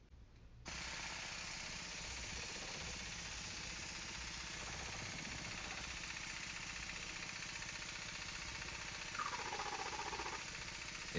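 A Lego Technic pneumatic engine runs with a steady, busy mechanical whir and rattle after a brief quiet start, holding fairly even with a slight rise near the end as it is revved.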